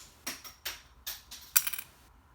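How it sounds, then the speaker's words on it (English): A plastic cutter scoring an FRP plate for a Tamiya Mini 4WD rear mount, five or six sharp scraping strokes in a steady rhythm, close and crisp, with no talk. "So you're gonna use a plastic cutter"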